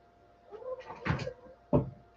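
Pet cat making agitated, scrambling noises indoors, with a few bursts of rustling and thumps and one sharp knock near the end, fairly close and moderately loud, no talk.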